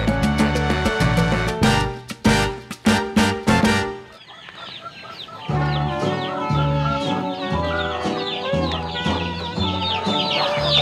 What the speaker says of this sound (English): So these are our chickens and they are eager to come out now.